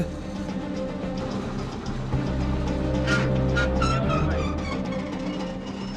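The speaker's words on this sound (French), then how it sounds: "lance le moteur pour activer la pompe hydraulique" The engine of a vintage Laffly fire truck idles steadily to drive its hydraulic crane pump, a constant low mechanical drone with some brief higher clanks and whines partway through.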